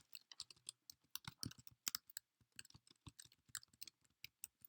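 Quick, light keystrokes tap on a computer keyboard in irregular bursts with brief pauses, close and quiet, with no talking.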